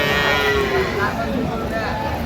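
A cow at a cattle market gives one long, loud, close moo that fades after about a second, over a dense background of crowd murmur.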